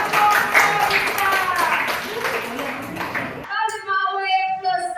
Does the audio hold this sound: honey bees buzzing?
no